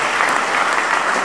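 Church congregation applauding in acclamation, a dense burst of clapping from many hands filling the room, loud and brief.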